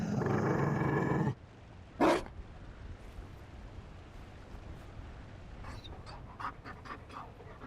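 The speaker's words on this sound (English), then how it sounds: "You found a dog." An abandoned Mabari war hound in Dragon Age: Inquisition – Trespasser. A loud burst of noise opens, then the dog pants in quick, soft, rhythmic breaths, close by, with a few sharper huffs near the end.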